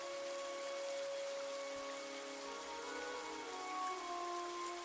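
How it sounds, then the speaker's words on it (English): Steady rain falls with a constant hiss, heard at a distance and fairly faint, joined by faint tonal hums from a story setting. "The rain quickly picked back up"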